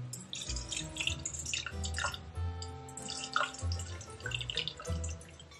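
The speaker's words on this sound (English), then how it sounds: "All you're gonna do is add some water to the jar." Water pours into a jar with trickling, dripping and bubbling splashes, fairly quiet and close, with small gurgling pulses and no talking.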